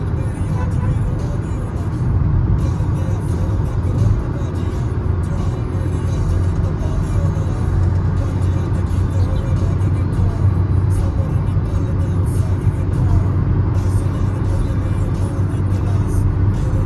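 A car on a highway road trip hums with a steady engine drone and heavy road rumble throughout, while a person talks over the noise.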